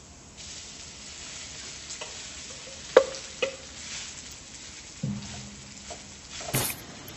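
Cooked rice being stir-fried with garlic in oil for Filipino sinangag, a steady soft sizzle with scraping stirs and a few sharp spatula knocks against the pan, close and alone.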